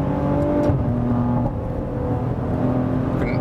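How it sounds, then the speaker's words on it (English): A Maserati Levante S Q4 SUV with a 3.0-litre V6 accelerates in third gear, a loud sustained engine drone heard from inside the cabin that rises in pitch, with a brief dip partway through. "So then let's go back to the digital speedometer to give you one last acceleration for today."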